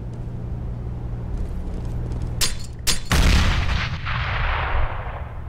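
A flashbang grenade going off in the Counter-Strike video game during an ESL Pro League match: a few sharp clicks, then a loud close bang with a ringing, rumbling tail that slowly fades.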